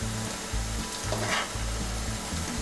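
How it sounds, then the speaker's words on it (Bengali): Home-style Bengali egg fingers fry gently in a pan until brown, giving a steady close sizzle with soft bubbling pulses and no voices. "আমি এবার আস্তে আস্তে ভেজে নিচ্ছি"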